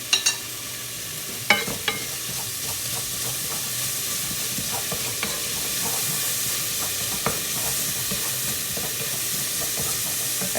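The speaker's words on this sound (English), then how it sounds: "we're going to go ahead and add a tablespoon of garlic. We're just going to give that a quick little stir." Garlic and onions stirred in a pot with a little broth, giving a steady close sizzle and hiss with a few sharp spoon clicks against the pot early on, no voices.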